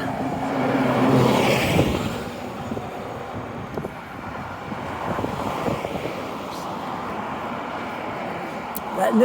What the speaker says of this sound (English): here comes bus 2 across Mumford, along with a lot of other buses coming on this road